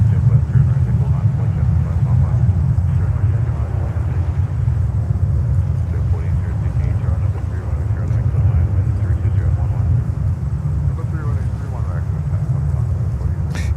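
A Kenya Airways Boeing 787-8 at JFK Airport, heard as a loud, continuous low jet roar that stays steady from start to finish.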